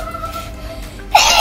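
A single sharp, loud sneeze bursts out at the very end, close by, after a short stretch of quiet room noise.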